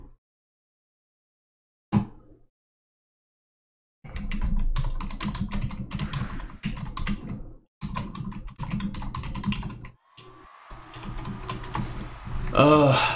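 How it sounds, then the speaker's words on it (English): Dense computer keyboard typing, rapid close clicking in bursts with brief pauses, after a short silence and a single knock. "Let me know in the comments if me typing on the keyboard is annoying"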